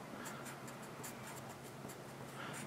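A pen or marker squeaks and scratches across a board in quick short strokes while something is written in red during a math lesson, close and fairly faint over a hissy room background.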